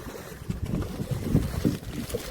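A boat cruises out of mangrove backwaters at Paravur, its engine giving a steady low rumble with water wash and wind buffeting the microphone throughout.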